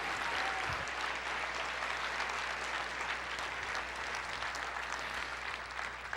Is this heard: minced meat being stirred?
no